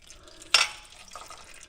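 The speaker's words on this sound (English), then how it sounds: "You can hear it running, dripping into the pan." Differential fluid draining from a 2022 Polaris Ranger 500 EFI and dripping into a drain pan, heard as one brief louder splash followed by faint, soft trickling.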